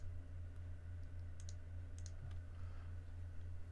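A few crisp mouse clicks land close together mid-clip while cutting profiles are picked in PRO NEST software, small and quiet over a steady low hum from the room.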